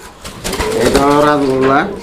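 Big fancy pigeons, colored Rajgolla birds in a pigeon collection, coo close by as someone speaks over them.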